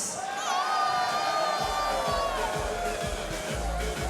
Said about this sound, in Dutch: Mogen nog even een heel groot applaus voor Sam